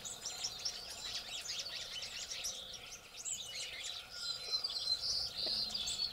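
Wild birds chirp and sing continuously in an outdoor garden, several overlapping calls close by and fairly loud, with a faint insect trill underneath and no talking.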